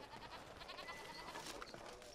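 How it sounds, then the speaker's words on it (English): Sheep bleat faintly in the Dragon Age: Origins video game, a quiet wavering call sitting low in a hissy, noisy game soundscape. "Sheep."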